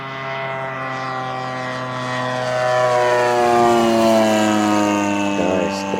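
A model Focke-Wulf FW-190 A-5 aircraft powered by a Zenoah GT80 twin-cylinder gasoline engine drones steadily as it flies a presentation pass, its buzzing propeller tone swelling louder midway and shifting pitch as it goes by.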